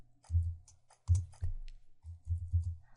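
Keystrokes on a computer keyboard during code entry, heard as short clustered bursts of clicks and taps with brief pauses between groups, close and fairly quiet with no talk.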